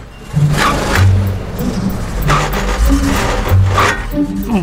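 A pickup truck's engine revs and hums as it drives off, running close and fairly loud with repeated surges of acceleration, with jangling rattles over the motor.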